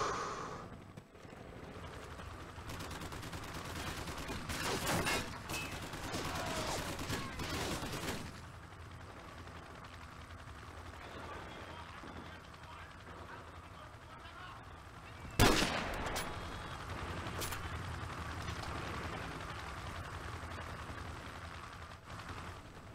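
Gunfire in Call of Duty: Modern Warfare, bursts of rapid shots and distant battle noise with a sharp loud blast near the end, someone speaking faintly at times underneath.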